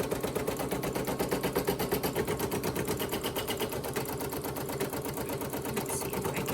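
An embroidery machine sews a placement stitch for fabric applique, its needle clattering in a steady rapid rhythm, loud and close, with no talking.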